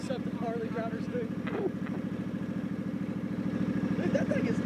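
Harley motorcycle engine running at a steady, loud low throb throughout, with rhythmic pulsing that swells slightly near the end as if revved, while people talk over it.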